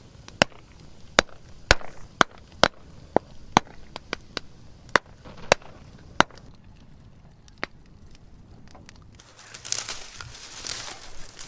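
Chopped bamboo pieces burning in a garden leaf fire pop sharply like fireworks, a dozen or so loud, irregular cracks spread over several seconds, followed by softer crackling and rustling.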